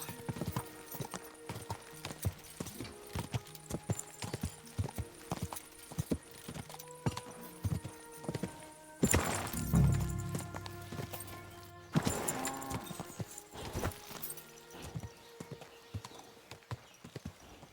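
Steady clip-clop of horse hooves trotting throughout in Kingdom Come: Deliverance II, close and rhythmic, over a sustained musical backdrop with a couple of louder swells.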